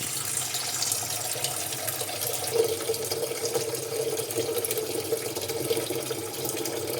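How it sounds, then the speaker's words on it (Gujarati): Water runs from a tap into a pot in a kitchen, a steady rushing hiss with a rising gurgle as the vessel fills, continuous and close, with no talking. "તો આપણે આમાં ભરી લઈએ પાણી"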